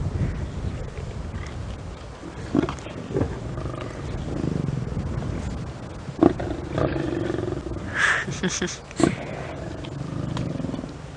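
Lions roar repeatedly, deep rumbling calls rising and falling over steady outdoor background noise, with a few sharp bursts near the end.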